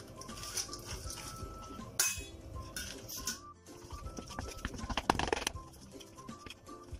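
Bread halwa with sugar and fried almonds and cashews being stirred in a pan, giving a steady run of spoon scrapes and metallic clinks against the pan, fairly close and continuous with a few sharper knocks.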